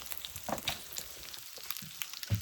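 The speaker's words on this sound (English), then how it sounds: "Hear that sizzling?" Quiet, steady sizzling of bacon frying in a pan, dotted with small pops and crackles.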